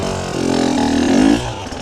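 Motorcycle engine revving in short bursts as the clutch slips during a slow wheelie, a rising mid-pitched drone that swells loudly then eases off as the front wheel comes down.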